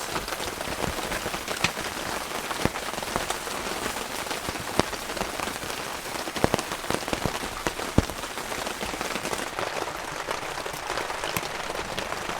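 Steady heavy rain drumming on a cabin, a dense continuous patter with scattered sharper drips and taps, fairly quiet and close, with no voices.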